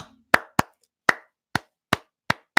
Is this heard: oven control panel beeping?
no